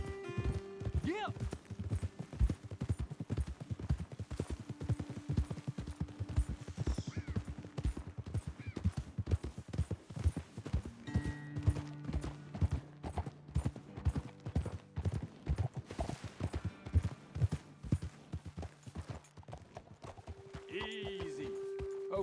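Horse hooves clip-clop steadily on a trail in the Red Dead Redemption 2 video game, a continuous rhythmic patter of several horses under people talking and occasional music.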